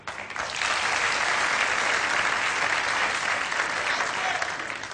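Studio audience on an Arabic television show breaking into loud, sustained applause, dense clapping that swells quickly and holds steady.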